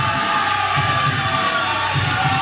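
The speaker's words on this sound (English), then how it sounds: "And the crowd goes wild here at the Orchard." A crowd at an evening pickleball match at the Orchard cheers wildly, a dense, loud, continuous roar of shouts and whoops with no clear break.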